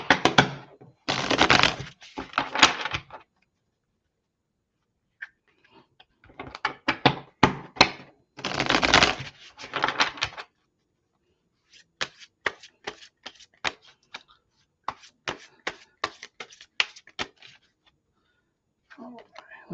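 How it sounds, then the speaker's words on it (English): A deck of tarot cards is riffle-shuffled up close in several crisp, fluttering bursts, followed by a run of light taps and flicks as the cards are squared and handled. "Let me give this one more good shuffle."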